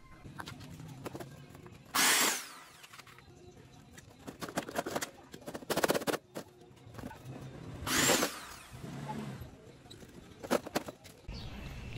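Power drill fitted with a 5/32 bit boring through a metal stud for a DIY gate, heard in a few short loud bursts around two, six and eight seconds, with quieter handling noise between them.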